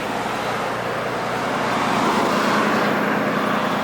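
A Nissan R33 Skyline that has sat idle for about a month, its engine running with a steady, loud broadband roar that swells slightly partway through, heard close with no speech.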